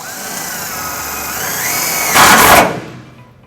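A power driver with a 1/4 inch socket drives a self-tapping screw into the frame of a GMC Sierra 1500 pickup. The motor whirs with a rising pitch for a couple of seconds, ends in a short louder grinding burst and then stops.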